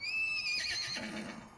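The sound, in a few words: horse neighing in video game Borderlands 2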